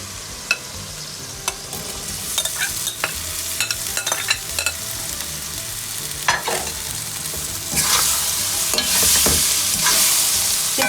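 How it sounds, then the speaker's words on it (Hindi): Carrots being stirred and fried in a spiced masala for a carrot and green chili pickle, with steady sizzling under repeated scraping and clattering of the spoon in the pan, growing louder toward the end; no talking. "अब मैं इसके अंदर ये गाजर ऐड कर दूँगी।"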